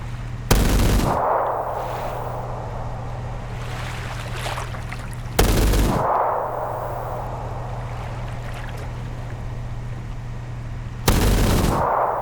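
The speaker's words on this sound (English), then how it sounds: "I'm gonna start shooting at that thing." Bursts of gunfire from a Star Wars-style shooter game on the Kamino firing range, three loud sharp volleys spaced several seconds apart over a steady low hum and washing ambient noise.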